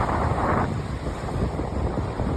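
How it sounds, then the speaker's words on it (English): Strong wind drives waves against the Lake Superior shoreline, giving a continuous rough roar of surf mixed with gusty wind buffeting close to the microphone. "And them waves are like being at the ocean."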